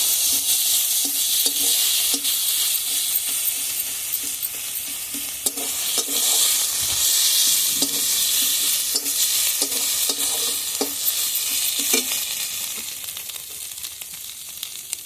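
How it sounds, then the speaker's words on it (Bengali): Vegetables with ginger paste fry in a pan for a cauliflower, egg and potato curry, a steady loud sizzle running throughout with regular scraping stir strokes every second or so. "আদা বাটা দিয়ে দেব এখন সবকিছু কিছু একসঙ্গে ভালোভাবে ভেজে নেবো"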